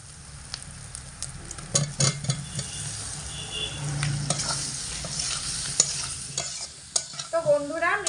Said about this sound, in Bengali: মিডিয়াম আঁচে রেখে মিনিট 3 সময় মতো কচুগুলোকে মশলার সাথে খুব ভালো করে কষিয়ে নিয়েছি